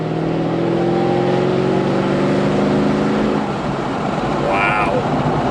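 A Walkinshaw Performance VXR8 engine roars loud and close in a continuous heavy drone, its pitch climbing as the car accelerates, with a brief higher tone near the end.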